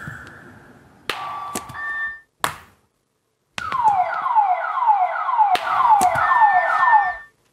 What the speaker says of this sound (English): So if we've got alarms there